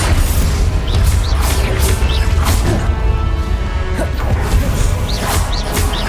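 Confringo blasting spells exploding in the video game Hogwarts Legacy: a dense run of loud booms, crashes and whooshing spell bursts in combat, continuous and close, with no talking.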